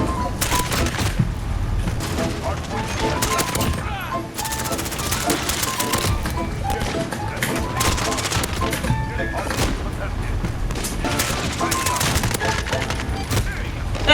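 An AS VAL rifle firing armor-piercing rounds in Call of Duty: Modern Warfare multiplayer, with dense, rapid suppressed bursts that keep repeating throughout, loud and close against busy game noise.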